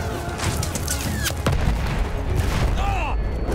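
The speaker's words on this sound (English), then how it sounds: "Where's all this machine gun fire coming from?" Dense gunfire and booms in Battlefield 1's World War I Cape Helles landing, rattling continuously at mid distance with a few sharper blasts, a constant chaotic battlefield roar throughout.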